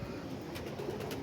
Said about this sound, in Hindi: ये कबूतर बैठा हुआ पर गिरा के, इसको पकड़ने की ट्राई करते हैं